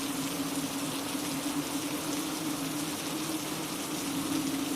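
Steady rain falls outside on a cold, foggy day, a continuous even hiss with a low, constant hum beneath it and no voices.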